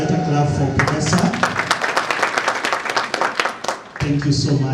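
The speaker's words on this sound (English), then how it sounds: "Let's give a better clap for Professor." Conference audience claps in a short burst of rapid, fairly loud applause that starts abruptly, holds for about three seconds and drops out, with speech-like tones around it.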